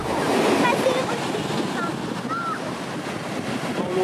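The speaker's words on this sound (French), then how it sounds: "On est en bord de mer, c'est super cool parce que du coup on a retrouvé l'air marin et la plage" Sea waves wash steadily onto the beach at Las Peñitas, a broad, continuous surf roar mixed with wind buffeting, with faint chirps in the background.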